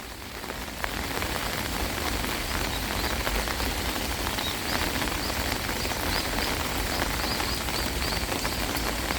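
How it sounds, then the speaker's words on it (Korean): Steady rain pours down on a weekend farm plot with cabbages and sweet potatoes, a dense continuous hiss with close droplet patter throughout and a few faint bird calls in the background. "물이 좀 개지만 비가 많이 오네요."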